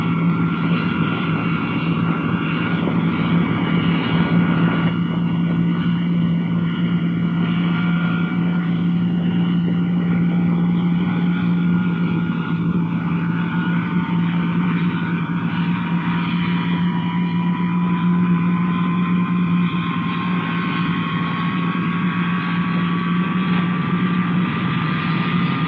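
The jet engines of a Boeing B-47 Stratojet, a 1950s bomber, spool up during a ground start, giving a steady loud roar with a rising whine that climbs slowly throughout.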